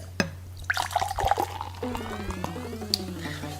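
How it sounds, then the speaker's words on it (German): An apple juice bottle opens with a short click, then the juice pours into a glass with a rising, gurgling fill tone, close to the microphone and with no talking. "ihr hört die Flasche, wie sie aufgeht, quasi. Und wie ich mir jetzt noch einschenke."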